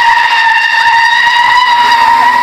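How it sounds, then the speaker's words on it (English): A skid car slides during a driver safety demonstration, its tires letting out a loud, sustained high squeal that holds steady for a couple of seconds, with no talking. "we took a trip to see the skid car"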